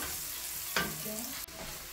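An egg drops into a hot pan with salt and turmeric and sets off a steady, close sizzle. The crackle swells sharply as it lands, then settles into continuous frying hiss.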